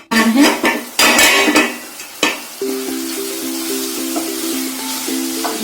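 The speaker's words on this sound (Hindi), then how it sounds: "अब हम इसे ढककर पकाएंगे लगभग 10 मिनट के लिए" A metal lid clanks down onto a pot of bottle gourd curry with loud, close clatters of cookware and cutlery, then a faint sizzle and a steady low hum continue.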